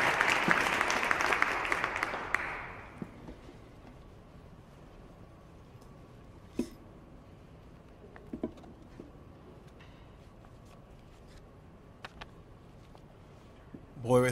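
Applause from an audience greeting poet Rickey Laurentiis as he steps up to the mic at a reading, a burst of clapping over the first two seconds that quickly dies away into a quiet room with scattered small noises.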